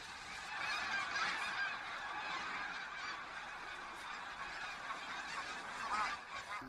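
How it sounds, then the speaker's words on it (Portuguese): A large flock of white-fronted geese gathered on a spring migratory bird reserve honks steadily, a dense, continuous chorus of overlapping calls heard from some distance at fairly low volume. "As gansos de face branca formam grandes bandos antes do grande voo."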